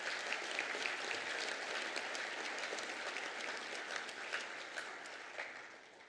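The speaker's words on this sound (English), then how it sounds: "I'd like you to offer them a round of applause" Audience applause for a music ensemble at a graduation ceremony: a steady, sustained wash of many hands clapping, fairly distant and even throughout, with no voices over it.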